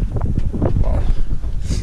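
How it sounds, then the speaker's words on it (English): Gusty wind buffets the microphone outdoors during tail light and bulb replacement on a 2006–2012 Mitsubishi Eclipse, a steady low rumble with fluctuating bursts throughout. "Sorry about the wind."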